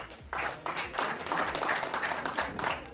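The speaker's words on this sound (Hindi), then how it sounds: "ताली बजाइए जोर से" A crowd at a comedy show breaks into quick, scattered clapping that swells to a fairly dense burst and holds, moderately faint overall.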